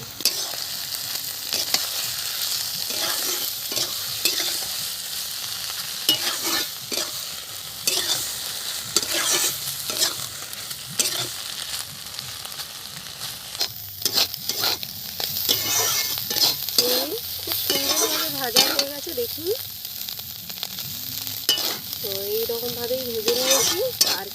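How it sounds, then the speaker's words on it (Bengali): Prawns frying in hot oil with turmeric and salt, stirred in a kadai: a loud continuous sizzle with frequent scraping spoon strokes, close up and steady throughout, with no speech. "এবার তেলের মধ্যে চিংড়িটা দিয়ে দেব"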